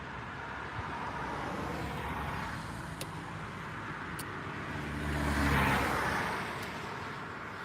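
A BMW passenger car pulls over at a roadside, its engine swelling louder for a moment midway over steady traffic rumble, with no one talking.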